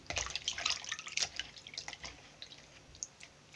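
Water from boiled potatoes drains through a kitchen strainer, a faint splashing trickle with scattered drips that fades toward the end, heard alone.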